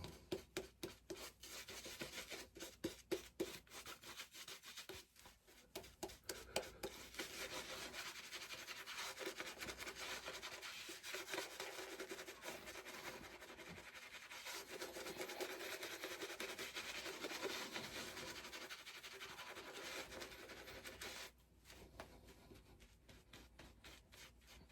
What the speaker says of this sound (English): I'm going to lather this up everywhere